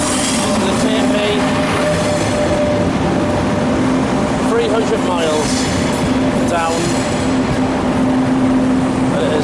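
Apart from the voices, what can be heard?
Italian passenger train running on rails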